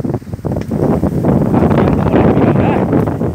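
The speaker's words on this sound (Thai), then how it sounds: "ฟังเสียงลมเอาครับ" Strong wind gusting across an open rural area, a loud, close roar with buffeting against the microphone that swells and stays dense throughout, with no clear speech.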